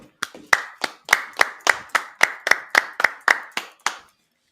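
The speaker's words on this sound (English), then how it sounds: "Clap that up" About a dozen sharp, evenly spaced hand claps ring out close and clear in a steady rhythm during a Sabbath service, with near silence between them and no talking.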